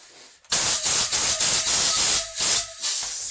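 An air compressor from a hardware store blows air into balloons in a loud, continuous hiss with pulsing surges and brief high squeaks from the stretching rubber, heard alone without talk.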